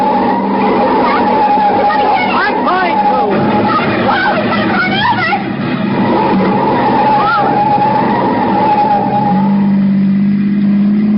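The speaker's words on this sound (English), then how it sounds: "I'm going to pull to one side, slam on the brakes, and see what happens." A car brakes hard and skids, tires squealing in long wavering shrieks over a droning engine, loud and close, with people talking over the noise in an old radio drama.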